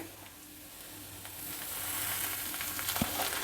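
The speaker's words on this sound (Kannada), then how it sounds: "ಈರುಳ್ಳಿ ಎಲ್ಲ ಚೆನ್ನಾಗಿ ಫ್ರೈ ಆಗಿದೆ ಈಗ ತುರಿದಿಟ್ಕೊಂಡಿರೋ ಮೂಲಂಗಿನ ಹಾಕ್ತಾಯಿದ್ದೀನಿ" Grated radish frying with onions in a pan, a soft continuous sizzle with a faint stir or clink near the end.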